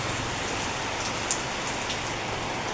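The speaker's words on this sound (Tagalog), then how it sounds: "And it's raining." Steady rain falling outdoors at a campsite where a canopy has blown over, a dense even hiss of drops on surfaces with one brief sharper drip, no talk.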